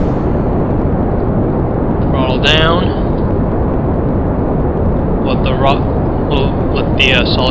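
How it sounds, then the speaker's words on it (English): Solid rocket boosters roar steadily during a Kerbal Space Program launch, a dense continuous rumble with someone talking over it. "the solid rocket boosters do their thing"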